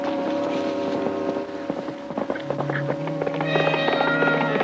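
Saddled horses' hooves clatter in a quick rhythm on a road amid a whinny, with music playing underneath, the hoofbeats building toward the end.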